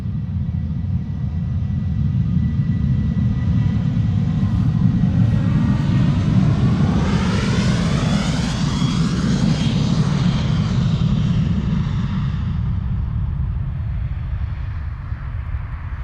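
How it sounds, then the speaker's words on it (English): KLM Boeing 737-800 jet departing Amsterdam Schiphol Airport, a loud sustained engine roar with a rising and falling whine as it passes, heard alone for about sixteen seconds. "KLM flight 1269 to Copenhagen, 737-800."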